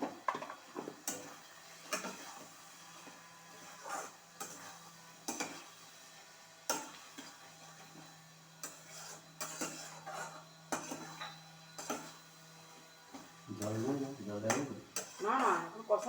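A utensil clinks and taps against a pot while mutton with masala is stir-fried, sounding as irregular metallic ticks with voices talking nearby.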